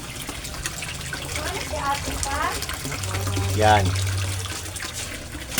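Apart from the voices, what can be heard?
water flowing from aquarium submersible pump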